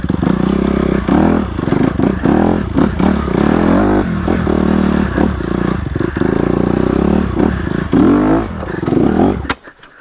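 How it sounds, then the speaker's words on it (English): Honda CRF250RX dirt bike crawling over rocks in first gear near idle, a close, chugging engine note that repeatedly swells and sags with clattering and scraping from the terrain, cutting out abruptly at the end. "Look, first gear, kind of idle speed, no clutch. The bike goes. Let's hit these rocks."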